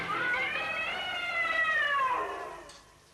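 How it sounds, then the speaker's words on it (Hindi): A cat meows in one long, drawn-out wail that rises and falls over about two and a half seconds, then fades away. It is set in a Hindi TV crime drama. "शेर की मौसी हैं, बिल्ली मौसी।"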